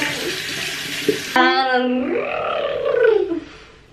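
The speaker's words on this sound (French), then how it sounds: "Allez, on rince." Tap water runs briefly as a child's hands are rinsed at a sink, a short broad splash that cuts off and gives way to a woman's sing-song talking nearby.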